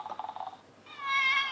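An electronic toy cat that gives birth to kittens makes a strained, synthetic meowing cry. A quick run of short chirpy pulses is followed by one sustained, tonal meow, close and clear.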